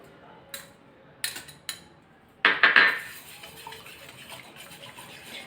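A spoon clinks against a pot while a mixture is stirred smooth with grated ginger and chilli for the Saurashtrian dish bolo, with a few sharp knocks followed by a louder burst of scraping, close and without speech.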